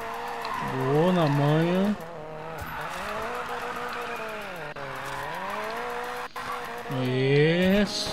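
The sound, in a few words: car drifting with tire squeal in the video game Need for Speed Payback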